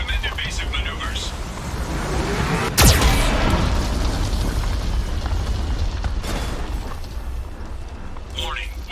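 Geth cannon blasts in the Mass Effect 2 video game, with a sharp boom midway over a continuous rumbling roar of battle, while a synthetic warning voice speaks.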